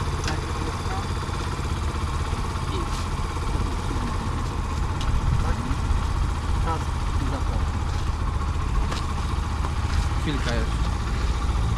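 A motorcycle engine runs at a steady idle throughout a first riding lesson, a constant low drone heard close by while people talk over it.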